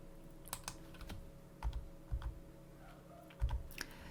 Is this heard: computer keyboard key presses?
yes